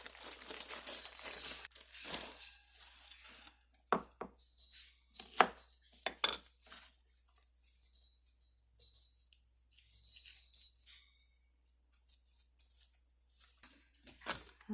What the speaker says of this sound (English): And then just chop these up too.